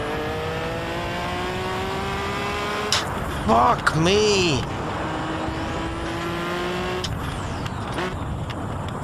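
A race car engine in the Assetto Corsa driving game drones steadily on a hill climb, with rising and falling revs and a brief squeal partway through, while a man exclaims loudly over it.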